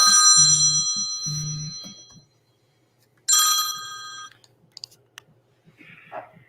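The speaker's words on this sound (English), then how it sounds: "Hey, we got a phone call." A phone ringtone for an incoming call sounds loudly in two short warbling bursts followed by a longer ring, then a few faint clicks and a brief soft tone.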